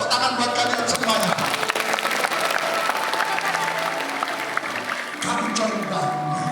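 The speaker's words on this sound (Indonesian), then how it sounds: "Tepuk tangan buat kalian semuanya." Sustained audience applause at a school character-building storytelling session, dense and steady clapping filling the whole stretch with a brief dip near the end before rising again, crowd murmur mixed in.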